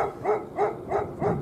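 A guard dog barks from a hillside temple grounds, four evenly spaced barks in quick succession, fairly close and clear with no talking.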